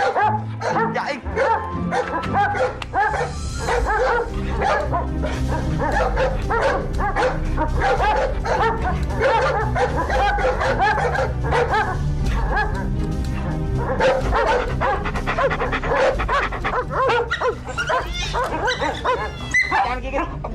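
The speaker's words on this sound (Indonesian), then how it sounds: "Jangan gigit, guguk, jangan gigit." Animated cartoon dog barks and whimpers in repeated yips and yelps, loud and close over busy cartoon music, with characters talking throughout.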